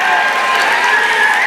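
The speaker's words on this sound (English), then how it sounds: "keep the claps going" Sustained applause from a graduation audience at Yale, dense and steady clapping across the whole stretch with a loud, even crowd wash and faint cheering mixed in.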